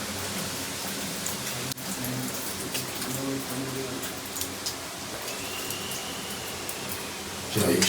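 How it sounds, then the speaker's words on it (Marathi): Rainwater falls steadily inside a cave temple of Kalbhairav, pattering onto a stone Shiva lingam with a continuous close hiss of drops and splashes and occasional louder bumps. "इथे तुम्ही बघितलं तर मस्त असं शिवलिंग आहे ज्यावर पावसाचं नॅचरल पद्धतीने पाणी पडतंय."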